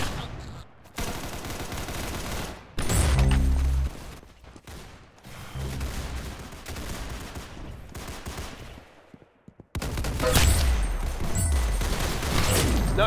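Arsenal video game gunfire, stretches of rapid machine-gun bursts and heavier shots alternating with short quieter pauses, loud and close throughout.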